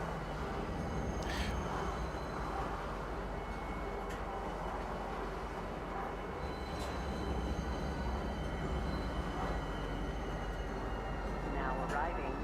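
Metro train ride through Lorville in a video game, with a steady, continuous rumble and rolling drone throughout and a few faint higher tones and clanks over it.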